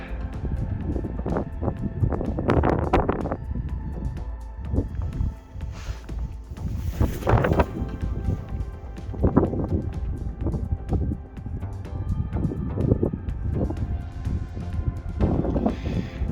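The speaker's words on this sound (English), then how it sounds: "You can see the wind whipping over there." Wind buffets the microphone on a mountain summit in Torridon, Scotland, a rough, gusty roar that swells and eases in uneven bursts throughout, close and fairly loud, with no voices.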